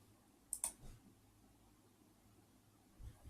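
A pair of quick, crisp mouse clicks on a publish button, close and clean over a quiet room hum, with a faint soft knock trailing afterward.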